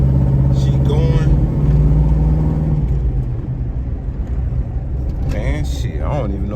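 A repaired Box Chevy car engine idles and hums steadily, rising in a low revving rumble toward the end, while someone talks excitedly over it.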